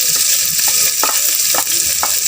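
Ground pork fries loudly in a hot pan, a constant close sizzle broken by several scraping strokes of a spatula stirring the meat.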